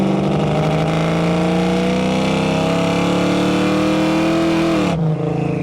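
A 1965 Ford Mustang with a 302 V8 engine revs up steadily under acceleration for about five seconds, pitch climbing as it pulls, then drops abruptly as the throttle lifts or a gear changes; loud and close, with no talking.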